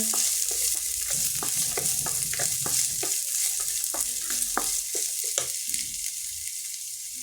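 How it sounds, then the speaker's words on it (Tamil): Chopped onion and long beans sauté in a pan with a constant bright sizzle, broken by a steady rhythm of spatula scrapes and taps close by, with no talking. "பெரிய வெங்காயம் கட் பண்ணி வச்சுருந்தேன் சேர்த்து நல்லா வதக்கிடலாங்க"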